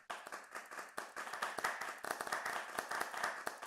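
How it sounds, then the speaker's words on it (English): A room of debate attendees claps for the debaters, a steady patter of many hands with sharp individual claps standing out, fairly quiet and slightly distant, with no talking over it. "please give yourself another round of applause"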